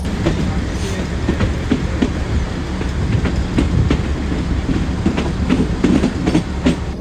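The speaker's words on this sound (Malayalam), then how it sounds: "ട്രെയിൻ വളരെ ഇപ്പോൾ പയ്യെ പോകുന്നു കേട്ടോ" A train rolls slowly along the Kangra Valley Railway in India, with a steady rumble and irregular clickety-clack of wheels over track joints, loud and close.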